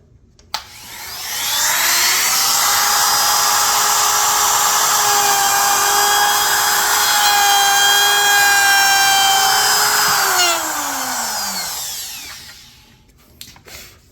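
A router bit whines steadily as it cuts a bow tie inlay recess in a live edge oak slab, spinning up sharply, holding a loud, even pitch for about ten seconds, then winding down.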